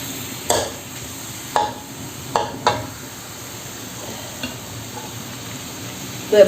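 Ingredients stir-fried in a pan for a Thai santol and shrimp curry, a soft continuous sizzle broken by several sharp scrapes and knocks of the utensil against the pan, close and fairly loud.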